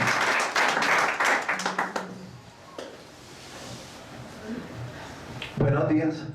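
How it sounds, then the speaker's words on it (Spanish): A church congregation claps in a short burst of applause for about two seconds, then it dies away into quiet room sound and a voice speaking nearby. "Damos un aplauso a nuestro Dios."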